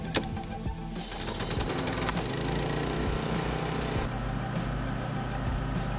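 A gasoline pressure washer engine sputters to life and settles into a steady, loud running drone, set up to wash a Deuce and a Half military truck.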